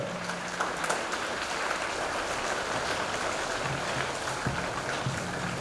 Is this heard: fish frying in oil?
no